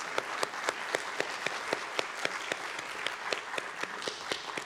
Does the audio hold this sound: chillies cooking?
no